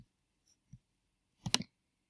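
A computer mouse clicks sharply a few times, with a quick double click near the end, while working in QuickBooks Online. The room is quiet and no one speaks.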